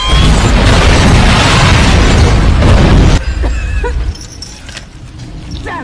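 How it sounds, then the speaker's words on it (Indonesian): Film bomb explosion: a loud, dense roaring blast fills the opening three seconds, then cuts off abruptly into quieter debris-like rattles and crackles as the noise fades. "satu unit bom yang sudah siap meledak"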